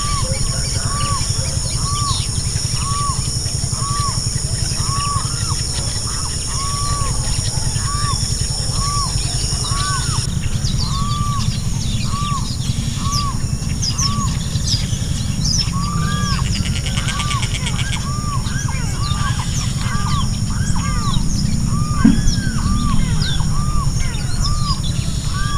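Many birds call at a lagoon, a repeated series of short rising calls standing out over steady background noise and a constant high hiss, with scattered other chirps throughout.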